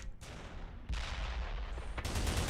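An enemy tank in a shooter video game fires at the player: three heavy, booming shots land roughly a second apart, each a sharp broadband blast with rumbling low-end tails, moderately loud.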